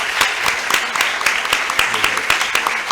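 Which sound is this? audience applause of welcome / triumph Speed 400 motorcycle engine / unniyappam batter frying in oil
audience applause of welcome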